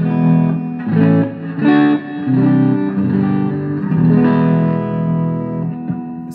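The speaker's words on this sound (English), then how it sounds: "It's a very nice reverb." An electric guitar plays chords and short phrases through a Joyo DC-15 amp, each note trailing off into a wide, washy reverb tail.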